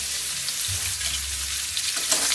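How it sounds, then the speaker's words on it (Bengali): Potato and papaya frying in oil in a pan, a loud continuous sizzle with soft stirring knocks and scrapes, no talking. "আলু আর পেঁপেটাকে আমি তেলের সঙ্গে খুব ভালোভাবে নেড়ে নেব"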